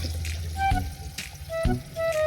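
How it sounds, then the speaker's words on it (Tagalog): Water from a pump runs and splashes into a filling container in short bursts, close and fairly quiet. "Lakas kasi tubig oh. Buti na lang po may water pump."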